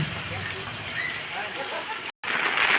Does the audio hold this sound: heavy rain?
yes